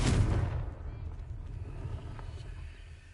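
The Confringo explosive spell from the video game Hogwarts Legacy goes off with a sharp, loud blast at the start, then a rumbling tail that slowly dies down.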